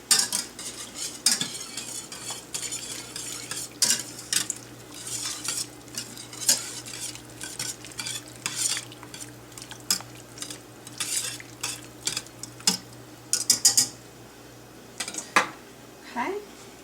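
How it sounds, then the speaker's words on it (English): A whisk clinks and scrapes against a pan as beef broth and Worcestershire sauce are stirred in over the heat, with irregular metallic taps over a soft simmering sizzle; nobody speaks. "Just whisk it in and cook it till it gets thick."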